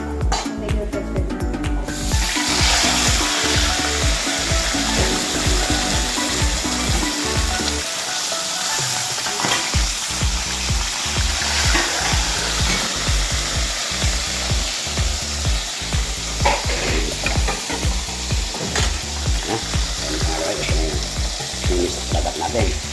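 Galunggong fish sizzle and crackle steadily in hot oil, a loud, dense frying hiss with irregular pops running throughout.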